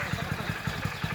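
A motorcycle engine idling and puttering close by as a bike is turned around in a lane, a steady low chugging pulse with rhythmic beats, loud and up front.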